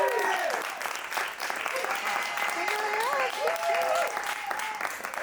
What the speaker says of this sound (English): let's get a round of applause going for my guests tonight